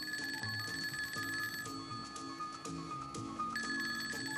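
A telephone rings in an office, with repeated bell trills in steady bursts that are fairly faint and come with no talk.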